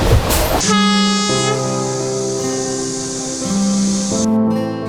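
A passenger train on the Chengdu-Chongqing railway in China rumbles close by while its horn blares in long, loud sustained tones that shift pitch, lasting several seconds.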